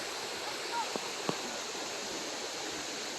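A waterfall seen from its top pours as a steady broadband rush along a walking trail near a lake, with a couple of faint brief knocks and a high chirp over the constant roar.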